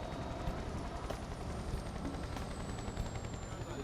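An offshore helicopter flies over the North Sea, its rotor thumping in a faint, even pulse over a continuous distant engine drone.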